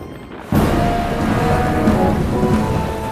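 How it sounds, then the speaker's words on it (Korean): Heavy rain pours steadily from a sudden start, with a low rumble of thunder rolling beneath the downpour throughout; no voices. "그들이 이 조언을 듣자마자 거센 폭풍이 일어납니다."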